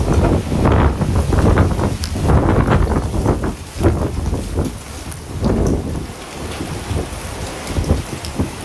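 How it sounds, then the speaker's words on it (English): Strong wind gusts roar across the microphone during a stormy Texas road trip, loud buffeting surges with rain-like hiss, rising and falling over several seconds, no voices. "here comes the wind"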